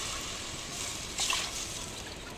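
Water pours steadily into a cooking pot of tomatoes for rice and lentils, a soft continuous trickle and splash with a brief louder surge partway through.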